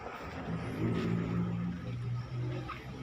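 A Thai farm dump truck with a 14 hp RT140 engine, slow gearing and a floating axle chugs steadily at close range, its low throbbing hum rising slightly midway and holding throughout.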